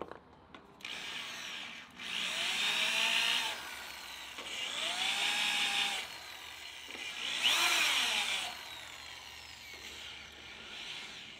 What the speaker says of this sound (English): Steve drilled and countersunk the holes at the end of all the straps.